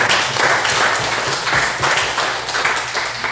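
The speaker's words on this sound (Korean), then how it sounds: "우리 박수 한번 환영해 주시고" A church congregation at a Sunday service applauds warmly, dense clapping that rolls on steadily without pause.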